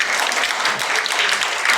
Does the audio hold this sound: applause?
yes